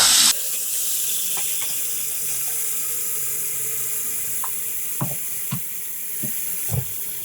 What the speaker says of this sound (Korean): 넛박스나 큰 볼에다가 뜨거운 물을 가득 담아주시고요.